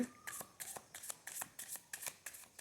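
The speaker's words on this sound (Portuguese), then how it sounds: "Então eu vou pegar duas cartas aqui." Tarot cards being drawn from a deck, a series of quick papery flicks and slides in a regular rhythm, close and fairly soft, with no talking.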